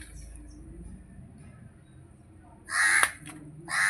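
A crow caws in two or three loud, harsh bursts near the end, close by, following a stretch of quiet background.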